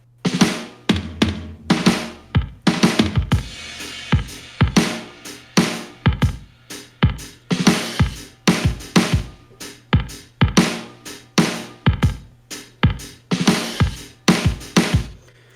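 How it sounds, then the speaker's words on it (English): A programmed Ableton drum kit pattern plays steady alternating kick and snare hits in a tight, even rhythm, punchy and loud with sharp transients and no voices. "I used this one for like the kick and the snare"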